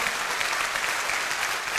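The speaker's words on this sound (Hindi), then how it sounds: "एक बार दिल से तालियां।" Warm applause from the audience at a business success seminar, dense continuous clapping from many hands, moderately loud and even in level with no voices over it.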